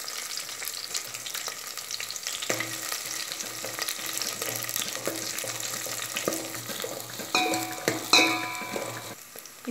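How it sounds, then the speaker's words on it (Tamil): Ginger garlic paste and chillies frying in a pan for a curry leaf and garlic kuzhambu, a steady close sizzle with occasional clinks of a spoon stirring. "இப்போது இஞ்சி பூண்டு நல்லா ஃப்ரை ஆயிடுச்சு"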